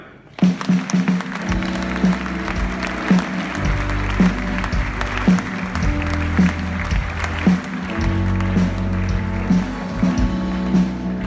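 Audience applause at a New Year's greetings ceremony for residents in Vias, welcoming the first award winner; steady clapping with a low rhythmic thump recurring about once a second throughout.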